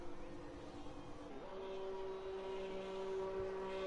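Racing cars in a racing video game firing up, with engine tones that rise and hold steady over a hum of several motors idling together.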